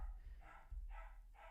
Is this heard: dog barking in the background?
yes